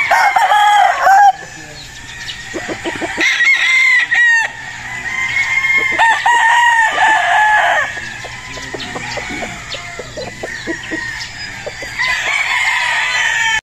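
Battle stag gamefowl crow loudly and repeatedly on a farm, with clucking and other roosters calling near and farther off throughout.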